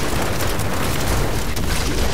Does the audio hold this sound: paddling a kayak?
no